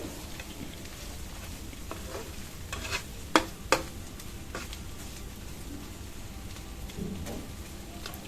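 Beef with chili powder fries in a pan while being stirred, a steady crackling sizzle with a couple of sharp spoon clinks midway, no talking.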